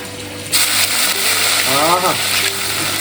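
Crushed ginger, green chilli and garlic dropped into hot coconut oil, a loud burst of frying that settles into a steady sizzle, with a brief rising whine partway through and a voice talking over it.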